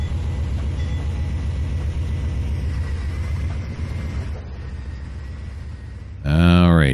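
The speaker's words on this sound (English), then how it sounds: "I have a train sneaking up behind him like that." A train rumbles past with a steady rolling drone in the Trainz 2019 simulator, ending with a loud horn-like blast, while a voice speaks over it.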